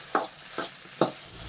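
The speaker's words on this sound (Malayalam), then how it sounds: "ഒന്ന് വെണ്ടയ്ക്ക വറുത്തെടുക്കുക" Okra is stirred in a hot pan with three distinct scraping strokes at a steady rhythm, each a short rasp over a faint sizzle, close and moderately quiet.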